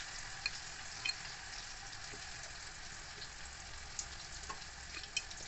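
Potatoes fry in a pan for a Bengali home-style dish, giving a steady, faint sizzle with a few small pops and crackles throughout and no voices.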